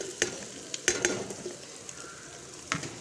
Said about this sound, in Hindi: अभी इसमें भिंडी डालते हैं।